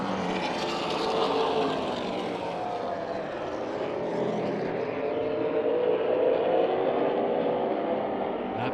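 Race cars at The Bullring short track at Las Vegas Motor Speedway during a Fall Classic heat race, a steady loud roar of engines running continuously with a slowly shifting pitch as the pack passes.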